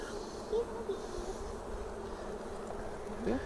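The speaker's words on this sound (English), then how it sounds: "see those bees there?" Bees buzz steadily in a continuous drone, with a few louder passes as individual insects fly close by.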